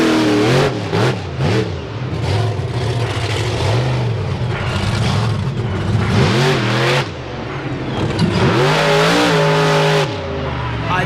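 A truck's engine revs hard and repeatedly as it slides around at the Fall 4-Wheel Jamboree Nationals in Indianapolis, loud and close, rising and falling in surges with tire scrub and crowd noise beneath.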